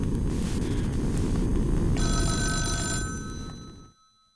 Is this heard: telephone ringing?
yes